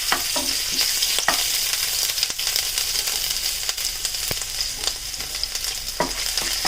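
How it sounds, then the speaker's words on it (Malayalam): Ginger fries in well-heated oil for an egg thoran, producing a steady, close crackling sizzle with sharp spitting pops scattered throughout and occasional stirring. "എണ്ണ നന്നായി ചൂടായി വന്നിട്ടുണ്ട്. ഇതിലേക്ക് നമുക്ക് ഇഞ്ചി ആദ്യം ചേർക്കാം."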